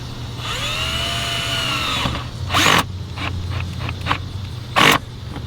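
A power tool tightens the clamp on an Injen cold-air intake in the engine bay of a new S550 Mustang GT. It gives two short, loud whirring bursts over a steady low hum.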